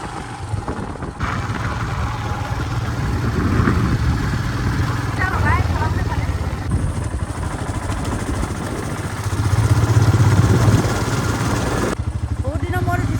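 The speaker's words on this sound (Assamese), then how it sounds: "বহুত দিনৰ মূৰত উঠিছোঁ বাইকখনত" A motorcycle is ridden on a road, its steady engine drone mixed with constant wind rush throughout. People talk over the noise.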